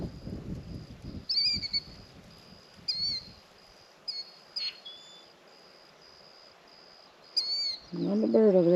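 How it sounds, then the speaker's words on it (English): Small birds chirp near a campsite while a storm is expected, several short bright tweets scattered across the clip, fairly close, with insect buzz and a few low rustles underneath. "Another bird over there. It's got to have a nest somewhere close."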